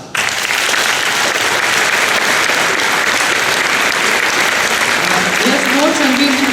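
Crowd at a crepe-paper flower exhibition in Vransko applauds steadily, a loud sustained wash of clapping that continues evenly throughout, with a voice briefly rising near the end.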